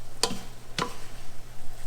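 Pancit canton noodles in a boiling pan are stirred with two sharp scraping clicks of a utensil against the pan, heard close over a steady low bubbling background.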